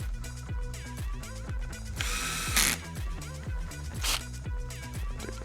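Four screws are driven back into the top cover of a Rhodan MCB unit with a ratcheting tool, giving a close, continuous clicking ratchet rhythm with a couple of brief louder metallic whirs.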